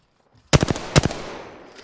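Apex Legends gunfire, two quick bursts of three or four sharp close shots each, loud and punchy, with a fading echo tail afterward.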